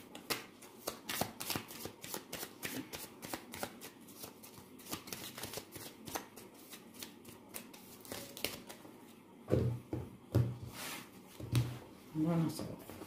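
Tarot cards shuffled by hand in a steady run of crisp riffling flicks, close and fairly quiet, then a few slower slaps and shuffles as cards are drawn and laid down; a voice talks intermittently underneath.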